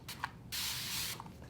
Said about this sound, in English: look how that sprays out